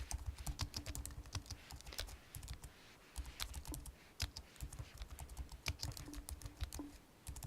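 A brief sentence is typed on a computer keyboard, a quiet, close run of irregular key clicks and taps lasting several seconds.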